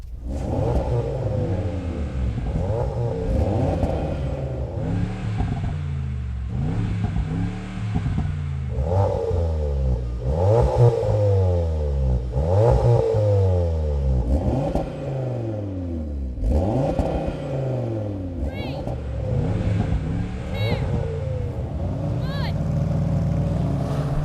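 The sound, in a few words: AMG G63, Audi RS3 and Leon Cupra R accelerating in drag race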